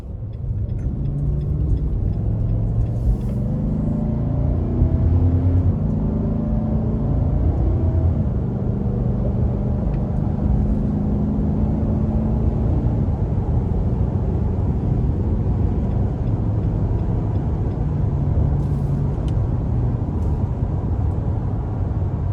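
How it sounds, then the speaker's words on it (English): A 2022 Nissan Titan Pro 4X pickup accelerating up an interstate on-ramp, heard from inside the cab as a steady low engine rumble and road noise with rising tones as it gains speed, no talking. "we'll just give it a bit of throttle getting on the interstate here"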